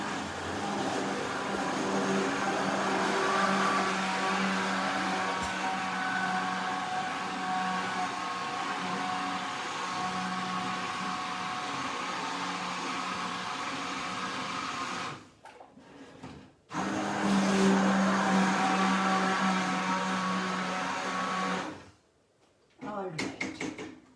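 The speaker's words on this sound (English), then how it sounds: "You take a hand blender" Hand blender puréeing cooked dal, a steady whirring motor drone that stops briefly twice and restarts, with a voice talking over it.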